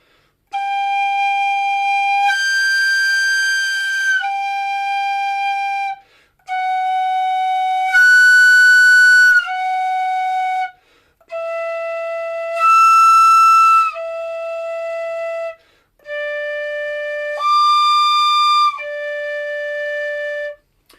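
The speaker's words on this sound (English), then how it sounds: "concentrate on getting the pure tone of the whistle" A tin whistle plays four long sustained notes, each breaking briefly into a shrill overblown squeal in the middle, with short pauses between them.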